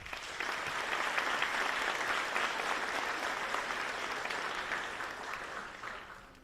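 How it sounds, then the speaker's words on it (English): An audience at a county athletic awards ceremony applauds county commissioners and officials, a steady, full clapping that lasts several seconds and then slowly tapers off. "Let's give them a round of applause."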